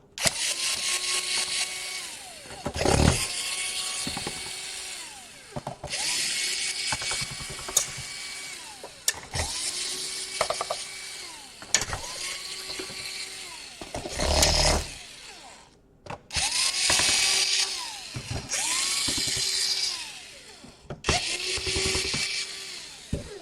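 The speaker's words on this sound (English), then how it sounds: "unscrew all of the screws around the perimeter of the laptop" Power screwdriver whirring in repeated short bursts while backing out the perimeter screws on a Dell Inspiron 15 3000 laptop, each run rising and falling in pitch, with brief pauses and clatters between screws, close and fairly loud.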